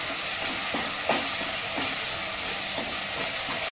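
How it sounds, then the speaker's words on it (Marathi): Crushed green chillies frying in a pan for aloo paratha filling: a steady, dense sizzle with a few soft scraping stirs, close and continuous until it cuts off abruptly. "आपण मिरची छान अशी फ्राय करून घेऊया।"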